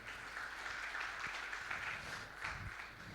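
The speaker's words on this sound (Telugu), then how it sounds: "ఉన్నవారం ఒక్కసారి చప్పట్లు కొట్టి దేవుని మహిమపరుస్తాం" A church congregation claps together in praise, a dense, fairly quiet round of hand clapping heard at a distance in a hall, steady for a few seconds with no speech over it.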